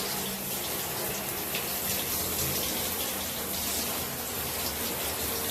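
A Magic Balai mop being rinsed under running water, with a steady, loud gushing stream that continues unbroken and close by.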